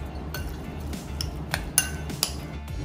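A spoon stirs finely chopped garlic, melted butter and pepper together in a bowl, giving a handful of sharp metallic clinks and taps scattered over a soft background rustle.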